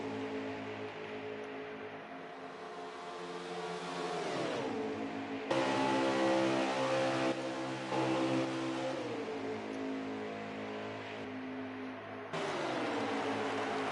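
Racing trucks at Daytona roar together in a pack, their engines droning steadily with harmonic whines that rise and fall as the pitch shifts and the trucks draft past.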